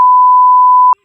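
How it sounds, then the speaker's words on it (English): Censor beep covering a swear word on a podcast, a single loud, steady pure tone lasting just under a second that cuts off abruptly into silence. "We'll beep that out, don't worry."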